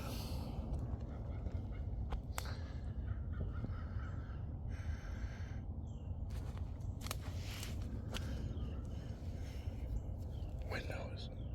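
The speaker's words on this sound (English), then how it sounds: "When that bird started making noises." A bird calls out a few times in harsh, crow-like bursts over a steady outdoor rumble at a brackish-water wildlife refuge, with soft voices murmuring in the background.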